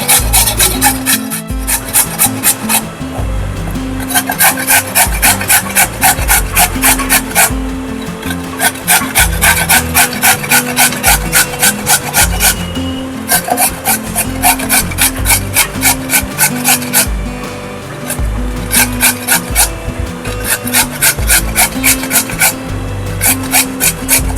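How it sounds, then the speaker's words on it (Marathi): Fresh corn is grated on a hand grater, a steady rhythmic rasping scrape repeated in quick strokes close up, with short pauses between bursts and no talk. "आता मी हे किसून घेते"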